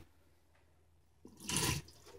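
Water poured out of an aroma diffuser during cleaning, a short splashing gush that swells for about half a second and then stops, close by in a quiet room.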